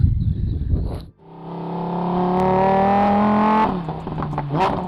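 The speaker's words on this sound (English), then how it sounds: "I'm going to drive the Huracan and see what the fuss is all about." A Lamborghini Huracan EVO starts to drive off: after a brief break, a loud, close engine tone swells and holds steady for a couple of seconds, then the pitch drops and rises again as it revs, no talk.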